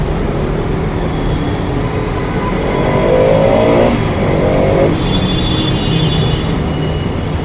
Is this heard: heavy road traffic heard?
yes